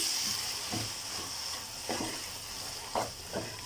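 Kothu parotta mixed with gravy and egg in a hot pan on high flame, giving a steady loud sizzle with a few scraping stirs and clanks of the spatula, close up and without speech.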